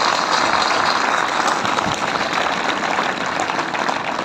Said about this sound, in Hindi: एक बार सभी के लिए जोरदार तालियां